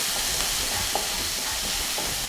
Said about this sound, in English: I'm going to throw in my onions that are already diced. Give it a good stir and saute for about a minute or so.